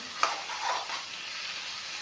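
Duck meat sizzles steadily in a hot pan, a continuous close hiss with a brief clink of a utensil near the start.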